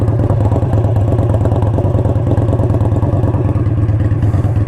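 An Indian Scout motorcycle with a 2-into-1 exhaust idles close by, a loud, deep, steady throb with a rapid even pulse throughout, no voices.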